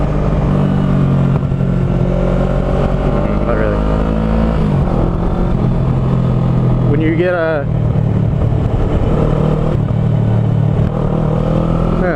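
A 2009 Kawasaki Ninja 650R fitted with a Yoshimura TRC exhaust runs with a steady, throaty engine note that rises and falls through the clip, under continuous talking by a man close by.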